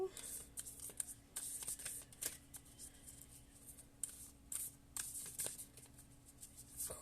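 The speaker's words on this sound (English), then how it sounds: "I'm going to shuffle one more time and then we're going to pull some cards" Tarot cards are shuffled in quick, uneven riffles and taps, with faint soft speech in the background.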